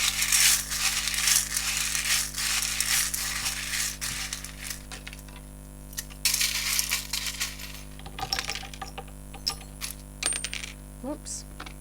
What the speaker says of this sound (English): Now I will just shuffle my cards